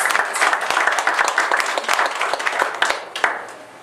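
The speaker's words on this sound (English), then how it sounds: "I think you guys deserve a big applause." An audience at the Goldfield Opera House gives enthusiastic applause, dense clapping from a modest crowd that starts strong and tapers slightly over a few seconds.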